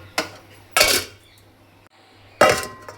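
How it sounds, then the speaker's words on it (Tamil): A metal lid clanks onto a pot of simmering fish curry (kodúva meen kuzhambu) in a kitchen, with three sharp clattering hits and light rattles, close by. "அப்படியே க்ளோஸ் பண்ணி மூடிடுவோம்"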